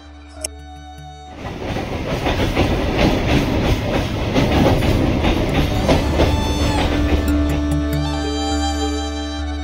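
A train on the Kolkata circular rail line rumbles past close by, its steady clickety-clack and metallic wheel noise going on for several seconds.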